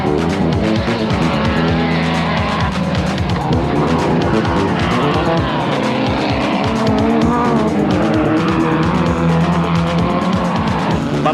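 Off-road race cars competing at Te Atatu, New Zealand, in 1991, with loud engines revving and roaring close by, overlapping as they weave through the field, with tire squeals and skidding throughout.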